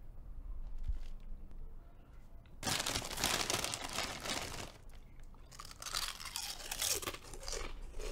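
Potato chips crunched from a bag, loud close bursts of crisp crackling and chewing that start after a quiet stretch and continue in dense rustling waves with brief pauses.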